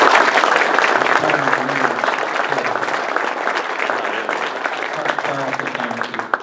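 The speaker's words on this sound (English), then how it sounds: "Please give a round of applause to Kristen and Adam," An audience at an awards event applauds the recipients with sustained, fairly loud clapping that slowly eases, while a few voices murmur underneath.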